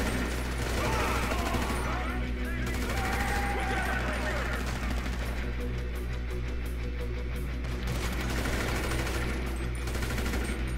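Grand Theft Auto V Online gunfire: rapid, continuous automatic bursts of shots, moderately loud, mixed with game sounds and voices talking.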